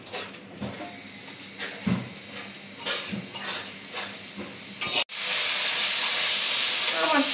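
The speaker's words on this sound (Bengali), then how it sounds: "দেওয়া হয়ে গেছে, এখন মশলাটা ভালোভাবে কষায় নিব।" Ginger garlic paste and spices frying in a pan in a village Bengali kitchen give a soft hiss with intermittent clinks of utensils, then a sudden louder sustained sizzle as more goes into the pan; faint talk in the background.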